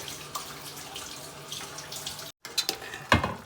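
Water runs into a pot of bottle gourd and chickpea curry, a close, soft pouring splash that breaks off briefly and ends with a few sharper splashes.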